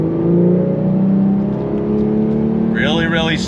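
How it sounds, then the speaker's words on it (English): A 2024 Porsche 911 Carrera T pulls hard on throttle in second gear, its flat-six whine climbing steadily from inside the cabin, then cutting off abruptly into a busier burst of sound at the end. "We're gonna go on throttle. On throttle, here we go, second gear."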